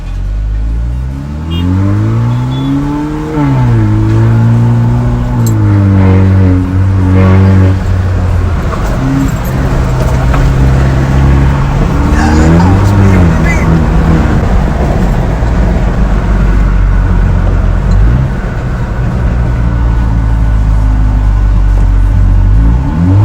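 A modified Mahindra Thar petrol SUV with a loud aftermarket exhaust rumbles deeply at idle and revs repeatedly, the engine note rising and falling in loud, close bursts with no talking.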